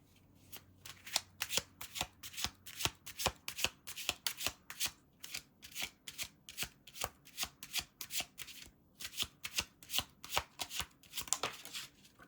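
Tarot cards are shuffled by hand in a quick riffling rhythm, a long run of crisp, close slaps and flutters with brief pauses between bursts, heard alone without speech.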